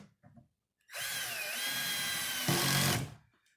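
A power drill drives screws into a bathroom vanity, a close, steady whirring burst of about two seconds that rises sharply at the end as the screw seats, following a few faint knocks.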